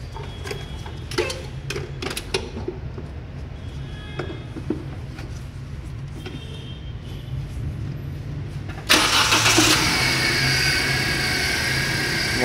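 A Suzuki K14B car engine idling on its four original ignition coils, a steady low hum with scattered ticks and clicks, rising to a louder, brighter roar in the last few seconds.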